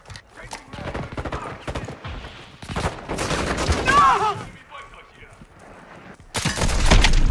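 Shotgun fire in Call of Duty MW II comes as several loud, separate blasts amid busy game noise, with talking between the shots.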